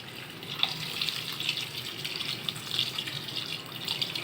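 Water pouring into a cooking pot of simmering broth with moringa leaves: a steady running splash with small bright spatters, close and continuous for several seconds, no talking.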